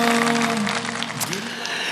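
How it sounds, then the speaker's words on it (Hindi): Studio audience applause on a televised Ramadan quiz competition, a steady wash of clapping from a crowd sustained for a couple of seconds over a faint tonal music bed. "तो बहुत सारी तालियों के साथ हम ब्रेक पे जाते हैं।"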